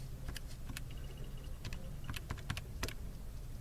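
Calculator buttons being pressed while entering a cube root calculation, giving a quick series of small, close, sharp clicks over a steady low background hum, no voices.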